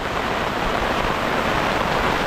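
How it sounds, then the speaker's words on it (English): Rain falls in Seoul as a dense, even hiss of drops, loud and unbroken throughout, with no other sounds standing out. "It rains a lot in Seoul."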